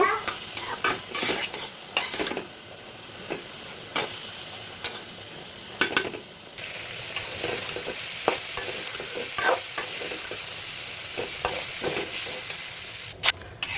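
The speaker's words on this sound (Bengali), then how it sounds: "খুব ভালোভাবে এখন মশলাগুলো মিক্স করে নিব" Spices being stirred in a pan of frying fish heads with split chana dal (bengal gram), with steady sizzling and repeated scraping strokes of a spoon against the metal throughout, no talking.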